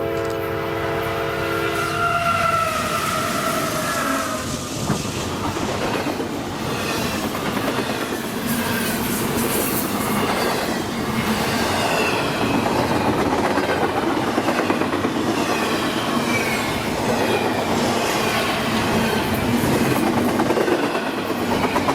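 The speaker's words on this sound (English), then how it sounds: "an eastbound intermodal train approaches our cameras" An eastbound intermodal freight train in Fairview, Pennsylvania sounds its horn in a few loud blasts, then roars past close by with continuous rumbling and rhythmic clickety-clack of wheels on rails.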